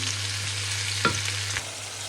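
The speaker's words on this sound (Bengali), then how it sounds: "ভেজে নিচ্ছি, তারপরে পেঁয়াজ কুচি দিয়ে দিলাম।" Chopped onions sizzle in a pan of hot oil, a steady close frying hiss with a brief stir or scrape near the middle and a low hum running underneath.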